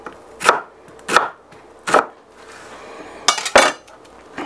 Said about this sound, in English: So the way, they just want you to slice this. So one of the best ways is go with the lines in the onion.